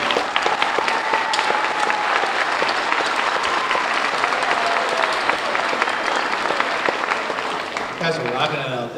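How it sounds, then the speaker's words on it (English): A school spring concert crowd applauds an 8th grade band with a sustained, loud round of clapping and cheering, and a voice speaks over it toward the end. "Let's give it one more round of applause for that 8th grade band."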